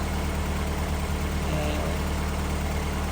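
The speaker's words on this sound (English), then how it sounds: "I'm going to leave it to idle" A Mazda MX5 engine idles steadily after rocker cover work, a constant low rumble with no change in pitch, close and continuous throughout.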